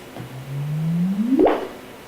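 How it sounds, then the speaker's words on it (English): Sonified gravitational-wave chirp from two merging neutron stars: a low steady hum that slowly climbs in pitch, then sweeps sharply upward in a brief chirp at the end, faint and alone. "So there's a sort of a period where it's just a solid hum, and then it chirps up at the end."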